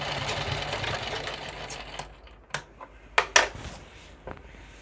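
A sewing machine stitches a saree fall, running steadily for about two seconds, then stopping, followed by a few sharp, brief clicks and taps of handling the fabric and machine.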